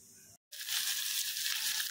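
Onions frying in hot oil give a loud, bright, continuous sizzle close by. A brief dropout comes just before the frying starts in full, with no talking over it.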